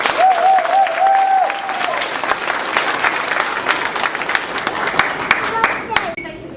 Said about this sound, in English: How about a round of applause for Mrs.